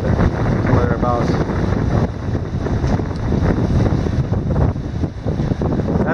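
Wind rushes across the open water of a big lake aboard a sailboat, a loud steady buffeting roar with gusts and sloshing waves, close to the microphone.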